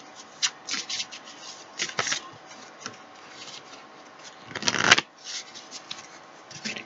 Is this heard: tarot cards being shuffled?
yes